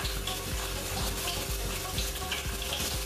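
Onion and chillies frying in a pan for traditional Davanagere-style food give a steady, close sizzle with a regular scraping stir and faint watery crackle throughout, with no talk.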